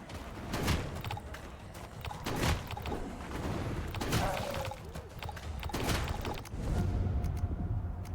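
Shotgun blasts from the FatalZone video game fire in a loud, spaced-out rhythm of about half a dozen heavy booms amid game clatter and background mechanisms.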